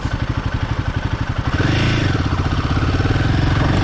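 A 2024 Royal Enfield Himalayan 450 single-cylinder motorcycle engine chugs in an even, pulsing beat, then rises into a denser, smoother drone as the revs climb, close and steady with no talk.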